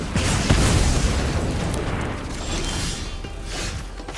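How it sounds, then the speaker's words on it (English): Lightning Bolt spell effect in MTG Arena, a loud booming burst of crackling energy that dies away into a rumbling decay, then a second faint swell. "we will absolutely bolt that"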